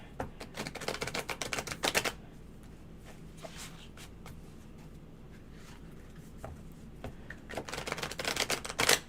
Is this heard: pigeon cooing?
no